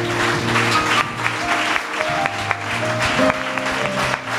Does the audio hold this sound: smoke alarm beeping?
no